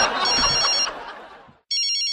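A telephone bell rings in bright trilling bursts, one ring fading out and then a second ring starting sharply after a short gap, loud and close.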